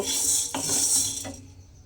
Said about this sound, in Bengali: এবারে এটাকে আমি আলাদা করে ঢেলে নেব ঢেলে একটু ঠান্ডা করে নেব